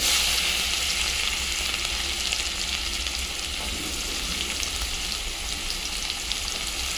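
Chopped garlic and onion fry in hot oil over a cumin, dried red chilli and asafoetida tempering, producing a loud, steady, close sizzle that runs the whole time without any voice.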